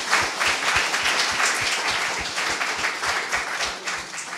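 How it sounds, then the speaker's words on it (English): An audience at a science-and-business talk gives a speaker a round of applause, a steady, fairly close patter of many hands with a few distinct, regularly spaced heavier claps standing out, lasting several seconds without talk. "We'll give another round of applause for Jasper."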